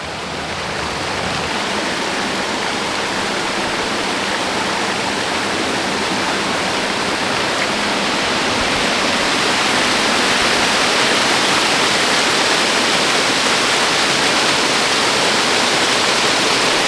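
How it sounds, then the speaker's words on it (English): A waterfall beside a rebuilt old mill with cement replacing its original wood gives a loud, unbroken rush of falling water heard up close, a dense hiss that stays steady and builds slightly, with no voices. "This is probably a giant waterfall."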